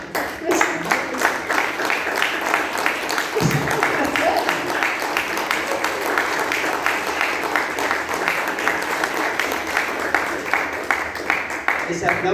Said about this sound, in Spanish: Ese aplauso salió medio forzado